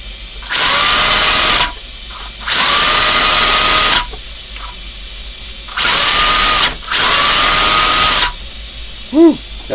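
A Losi 22S RC car with a new motor and 120A ESC on a 2S battery whines in four sharp, high-pitched bursts of about a second or two each, with brief quiet gaps between them.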